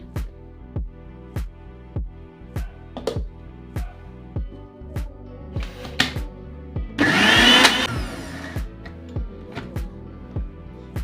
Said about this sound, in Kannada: ಭಾಳ ನುಣ್ಣಗೆ ರುಬ್ಬೋದೇನು ಬ್ಯಾಡ್ರಿ ಎಷ್ಟು ತರಿ ತರಿ ತರಿಯಾಗಿ ಬಂದ್ರೆ ಸಾಕ್ರಿ